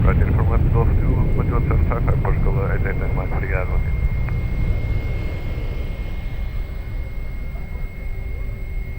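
A Ryanair airliner takes off at Lisbon Airport, its engine roar a broad, steady rumble that holds loud throughout, with air traffic control radio talk over it in the first half.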